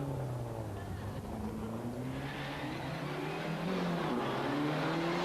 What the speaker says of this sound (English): The left-hand drive Escort was being driven very rapidly indeed, and was rapidly closing on the Sierra and on the Mitsubishi.